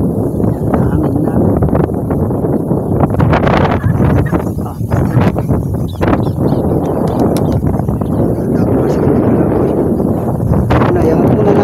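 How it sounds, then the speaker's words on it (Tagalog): Strong gusting wind buffets the microphone, a loud, continuous roar with rumbling bursts throughout. "Hangin na."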